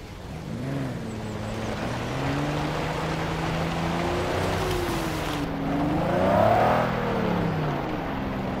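Mercedes G63 AMG engine heard outside while driving off-road near a lake, a steady rumbling drone with rising and falling pitch as the throttle changes, swelling louder near the end, with wind noise.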